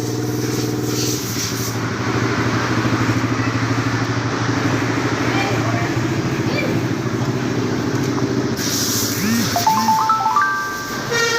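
A black Motos 50 cc mini trail motorcycle engine runs at a steady, buzzing idle nearby, with a few whistling and chirping sounds near the end.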